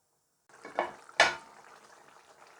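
Rui fish bhuna curry cooking in a pan, with a loud sizzling burst and a sharper second hiss as liquid hits the hot oil, then a steady softer bubbling sizzle.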